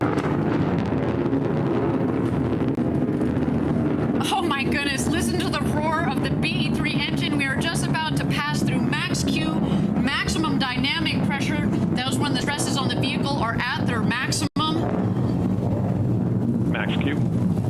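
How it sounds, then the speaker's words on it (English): A Blue Origin rocket's BE-3 engine, burning liquid hydrogen and liquid oxygen, roars in a low, constant rumble through launch ascent. Excited voices talk and cheer loudly over it for most of the stretch. "Beautiful burn on that BE3 engine"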